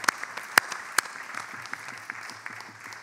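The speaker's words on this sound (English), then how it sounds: "let's give our master's students a great round of applause" Short burst of clapping from a crowd at a graduation ceremony, scattered sharp claps over a steady patter, fading slightly toward the end.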